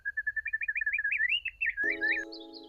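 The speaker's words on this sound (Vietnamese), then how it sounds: "Tiếng hót hay nhất mà chị từng nghe." A bird sings a fast run of rising, warbling chirps, clear and close, then breaks into a brighter, higher phrase over a sudden harmonic tone near the end.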